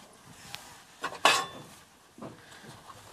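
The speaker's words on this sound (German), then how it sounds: "Achtung, das teure Porzellangeschirr. Au, au, weggeschlagen." Expensive porcelain dishes are knocked about in a mountain hut, giving a few sharp clinks and clatters with one louder crash, spaced irregularly over a quiet room.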